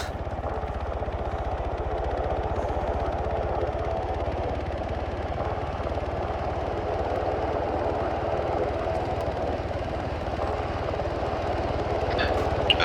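A video game helicopter holds a steady, loud rotor-and-engine drone from start to finish, with no voices over it.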